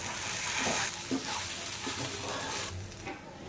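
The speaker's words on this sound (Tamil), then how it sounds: "வெண்டைக்காவை போட்டு பொரித்து எடுத்துக்கலாம் வெங்காயை போட்டாச்சு அது நல்லா பொரியட்டும்" Okra and onion frying in a pan for a South Indian poriyal, a close steady sizzle with occasional soft stirring scrapes.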